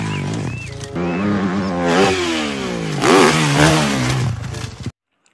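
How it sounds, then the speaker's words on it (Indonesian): Toy motocross motorcycle with an electronic engine sound, revving up and down in rising and falling sweeps at close range before cutting off abruptly. "Wow, ini motor cross."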